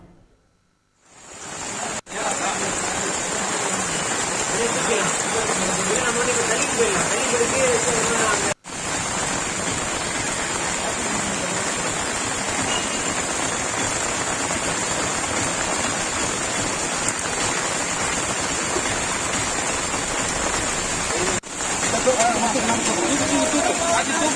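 Heavy, unrelenting rain pours around a flooded hospital, a dense steady hiss that holds at full strength for over twenty seconds after a brief quiet start, with only a couple of short cuts.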